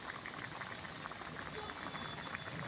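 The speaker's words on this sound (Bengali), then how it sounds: "সুন্দর ফুটছে দেখুন।" A pot of tangra fish and prawn curry, seasoned only with chilli, turmeric and five-spice, bubbles at a steady boil, with soft continuous gurgling and popping heard close up.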